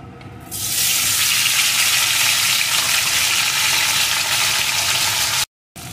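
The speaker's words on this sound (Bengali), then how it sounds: "তেলটা গরম হয়ে গেছে। এখন এর ভিতরে আমি কচুগুলোকে ঢেলে দেব।" Taro pieces drop into hot mustard oil in a wok and a loud, sudden sizzle surges up, then holds as a dense, close hiss until it cuts off abruptly.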